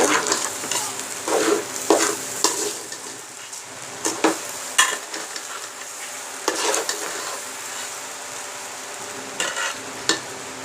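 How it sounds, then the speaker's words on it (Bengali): Rice grains are fried and stirred in a pan, giving a soft continuous sizzle broken by repeated scraping strokes of the spoon at an irregular rhythm, close and fairly loud. "চালগুলো ভালো করে ভেজে নেব"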